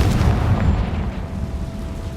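A Confringo fire spell exploding in the video game Hogwarts Legacy, a loud heavy low boom that rumbles and slowly fades over two seconds.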